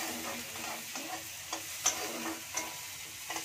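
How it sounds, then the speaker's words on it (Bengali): Onions sizzle and crackle in hot oil, a soft steady frying hiss with occasional stirring scrapes, close up and fairly quiet, no voices. "পেঁয়াজটা ভাজা হোক,"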